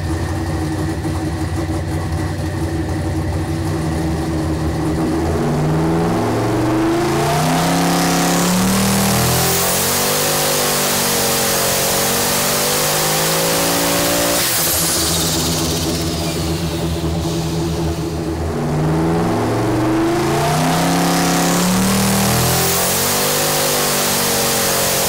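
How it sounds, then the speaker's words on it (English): A twin-turbo 5.3 V8 engine running 30 pounds of boost roars loudly through repeated dyno pulls, its pitch climbing and falling in long sweeping revs with a hissing rush at each peak. "Our best pull came with an incredible 30 pounds of boost being produced by the two turbos."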